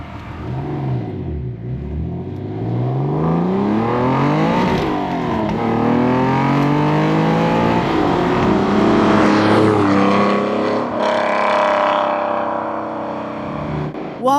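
A TVR Tuscan sports car engine revs hard through the gears, rising in pitch, dropping at each shift and climbing again, loud and close with no talk.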